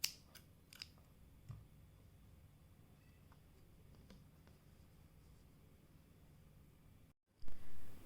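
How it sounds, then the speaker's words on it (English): Scissors snip crochet yarn after a finished granny square, a few quiet, sharp clicks near the start in an otherwise hushed room, followed by a brief muffled handling bump near the end. "cut your yarn"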